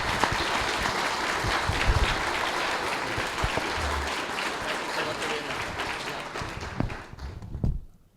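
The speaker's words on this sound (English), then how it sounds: "please give a big round of applause for Del." An audience at an AI group's general meeting in Birmingham applauds for a speaker, steady full-room clapping lasting around seven seconds before tapering off with a couple of louder thumps.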